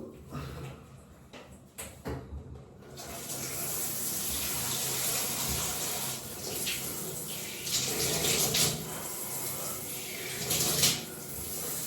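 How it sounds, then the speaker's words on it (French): Shower water runs steadily as a broad, even hiss that starts after a few quiet seconds with faint knocks, staying close and continuous with slight surges, and no talking. "Je vais aller à la douche et puis let's go"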